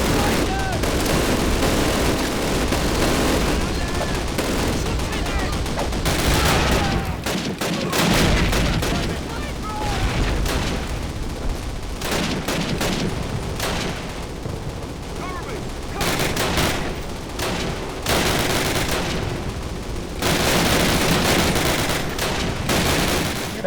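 Intense World War II night battle at St. Mere Eglise in Call of Duty, with sustained machine gun fire and overlapping gunshots rattling loudly and continuously, joined by occasional heavy booms.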